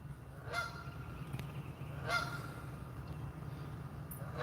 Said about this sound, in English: Look, there's a goose right here.